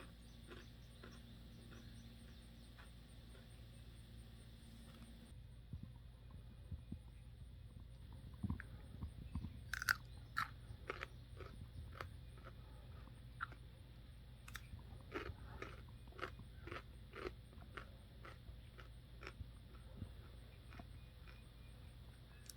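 Sharp crunchy bites and chewing of a Boston Pickling cucumber, a series of crisp snaps close to the mic, with a low rumble of background noise and no talking.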